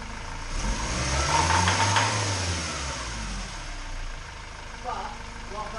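A 2006 Ford Transit 2.2 diesel van engine starts and idles with a low, throbbing rumble that swells then eases, a faint voice briefly audible near the end.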